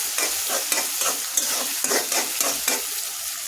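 Half a bowl of onions frying with a bay leaf in a pan, a continuous hiss of oil punctuated by rhythmic stirring scrapes, close and steady, with no voices.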